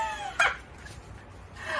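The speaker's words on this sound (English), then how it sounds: "if you hear all the rustling around, it's because my chickens hear me in here" Chickens move about and cluck near a Vermont greenhouse, with a sharp, close call near the start and softer fowl sounds and rustling after it.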